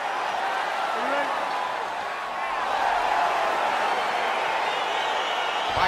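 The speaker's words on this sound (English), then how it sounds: "crowd getting excited as this fight gets underway" Virtual arena crowd in the fighting video game EA Sports UFC 4 roars steadily as a bout gets underway, a dense continuous wash of cheering with a faint whistle-like rise, staying loud throughout.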